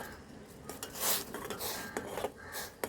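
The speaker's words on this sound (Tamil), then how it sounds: "டீ நல்லா கொதிக்கக்குள்ள அப்படி கிண்டி விட்டுங்க" Metal scraping and clinking in a pot of boiling liquorice root tea, a spoon stirring in irregular strokes with small knocks against the sides, close up.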